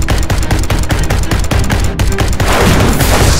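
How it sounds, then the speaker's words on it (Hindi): Cartoon robot firing a machine gun, a loud, rapid burst of gunfire with dense repeated shots for about two seconds before a booming blast and rumbling noise take over. "वो रोबोट अपनी मशीन गन निकालकर चीनू के ऊपर हमला करने लगता है।"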